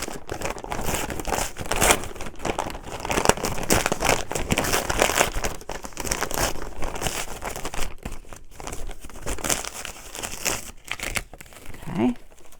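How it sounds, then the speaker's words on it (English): Continuous crinkling and tearing of stiff tear-away embroidery stabilizer, close and steady, with small rips and rustles throughout and no voices. "what I like to do is to tear away the stabilizer"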